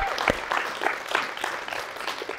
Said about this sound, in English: Come on, let's give a round of applause to those who are watching.